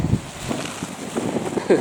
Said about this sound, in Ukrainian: Так, вітер здоровий.